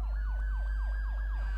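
A police car siren wails in a rapid, repeating up-and-down sweep during a chase in the racing game Need for Speed Most Wanted 2012. The siren is loud and steady over a constant engine drone.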